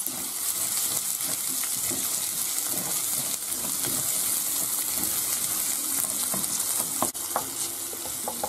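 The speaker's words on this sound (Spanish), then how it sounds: "Y a continuación echamos el pimiento verde. Y también lo rehogamos." Green pepper sautéing in a pan with garlic for Málaga-style rice, a loud continuous sizzle with light stirring throughout.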